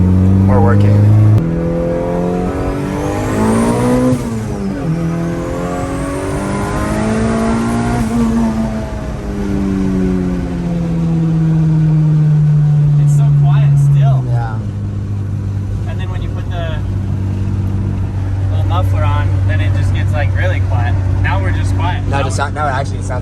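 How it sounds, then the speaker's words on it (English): A 500HP turbocharged Honda Civic sleeper with a quieted exhaust revs up and settles into a muted, stock-sounding engine drone, rising and falling in pitch as it accelerates and cruises, fairly close and steady. "Now it actually sounds like a stock Civic."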